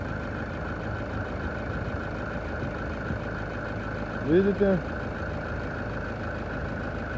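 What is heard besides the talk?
Hyundai Terracan engine idling after service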